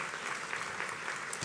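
Sustained applause from a breakfast audience at a women's equality celebration, steady and moderately loud clapping filling the whole moment without pause.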